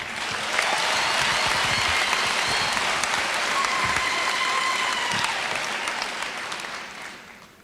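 An audience at a university chancellor inauguration gives a sustained round of applause, steady dense clapping from a large crowd that tapers off in the final second.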